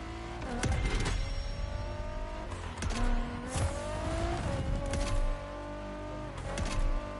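Cars race in The Crew Motorfest on a slalom course, engines revving loud and steady with repeated upward whines as gears shift, tires squealing through turns, no voices.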